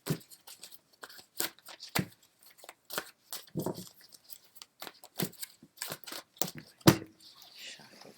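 Tarot cards being shuffled by hand, a close, quiet series of irregular papery snaps, riffles and flicks spread across the stretch with short gaps between them.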